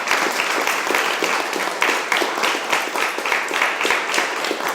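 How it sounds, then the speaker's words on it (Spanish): A church congregation claps in praise, loud and close, with crisp individual hand strikes standing out from a dense steady ovation that carries on evenly with no speech. "pueden darle un fuerte aplauso al Señor"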